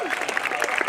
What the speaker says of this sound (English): Let's give Mike Dracchio a nice round of applause too.